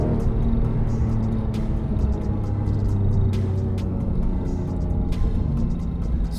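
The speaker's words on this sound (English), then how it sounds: "lovely flat six engine noise that just makes you want to use more revs all the time" Porsche 996 GT3 flat-six engine heard from inside a car with little soundproofing, a loud, steady low rumble that holds throughout with faint clicks over it and no talking.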